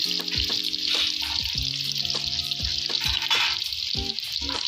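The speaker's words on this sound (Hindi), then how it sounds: "इसको थोड़ी देर लाल होने तक भूनेंगे" Chopped onions fry in a pan for a village-style potato and soybean curry, giving a steady close sizzle, with occasional stirring clatter and water-like bubbling throughout.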